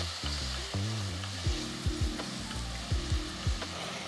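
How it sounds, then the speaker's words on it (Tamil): A steady, quiet sizzle of tomatoes sautéing in a pan, with soft plucked music playing over it. "தக்காளியை ஒரு 2-3 நிமிஷம் வதக்கணும்."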